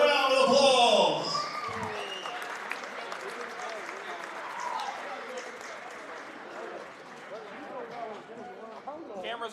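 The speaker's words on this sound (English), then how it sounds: "let's give all of our alumni another round of applause" An audience at a high school wrestling regional qualifier event claps for alumni, loud applause at first that thins into scattered clapping, with a voice speaking over the crowd.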